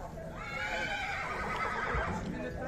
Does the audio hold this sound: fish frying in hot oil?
no